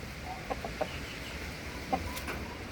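A BPR hen gives a few faint, brief clucks at a distance over a steady outdoor background hiss.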